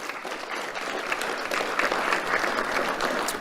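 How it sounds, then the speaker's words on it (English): Steady applause from an audience at a sheriff's office awards ceremony, continuous and fairly loud throughout with no break, a dense wash of clapping hands filling the room. "Let's have a round of applause for Captain Faccialonga."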